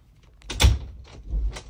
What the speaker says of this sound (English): Having trouble with that door?